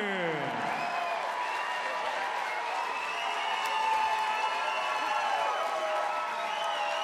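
Crowd of fans at a Minnesota MMA event cheering, whooping and applauding a unanimous-decision winner, a loud continuous roar with scattered shouts and whistles that swells briefly midway.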